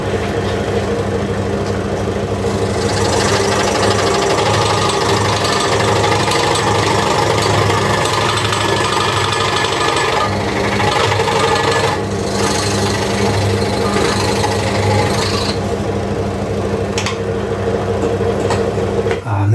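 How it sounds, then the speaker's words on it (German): A hand saw cuts through wood for a homemade Schwibbogen, a Christmas candle arch. Continuous rasping strokes run loud and close for nearly twenty seconds, with brief pauses and no talking. "mit der Säge gerade sägen ist auch ein Kunststück"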